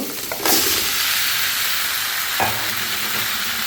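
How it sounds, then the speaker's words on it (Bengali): Chopped vegetables tipped into hot oil with fried spices for a Bengali pabda fish, ridge gourd and potato curry: a loud, steady close sizzle and hiss, with a sharper burst near the start as the vegetables hit the pan. "মশলাগুলো কষানো হয়ে গিয়েছে এখন আমি কেটে রাখা তরকারিগুলো দিয়ে দেব"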